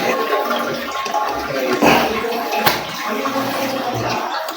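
Freshly repaired toilet bowl flushing nearby, a rushing swirl of water that swells and drains over several seconds with no talking.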